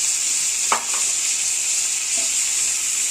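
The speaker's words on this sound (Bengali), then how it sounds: "এখন রসুন ভাজা হয়ে গিয়েছে, বাটারেরও একটা সুন্দর স্মেল বের হয়েছে। এখন আমি এর সাথে দিয়ে দিচ্ছি সেদ্ধ ফুলকপি।" Boiled cauliflower sautés in butter with fried garlic, giving a loud, even hiss of frying with two brief scrapes of a spoon stirring in the pan.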